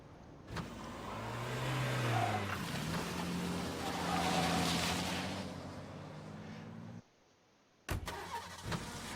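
A car in a Tekken video game cutscene hums and revs steadily up close, a continuous engine drone that drops to near silence briefly before resuming.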